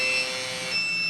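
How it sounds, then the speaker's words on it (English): A PAPR (powered air-purifying respirator) warning alarm buzzes steadily and loudly up close, a continuous electronic tone that holds on without a break. "there's also going to be an alarm that'll go off in about 30 seconds"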